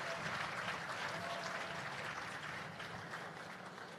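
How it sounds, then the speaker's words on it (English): Audience applause for the Jamaica Constabulary Force Band at a civil service long service awards ceremony, a steady wash of many hands clapping, moderately distant and sustained throughout. "I think they too deserve a round of applause."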